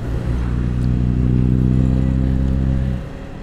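A motorcycle engine drones steadily and close in road traffic for a few seconds, then fades off near the end.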